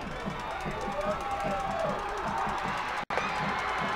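A high school football crowd roars steadily from the stands late in a game, a dense wash of distant cheering and shouting that carries on without a break.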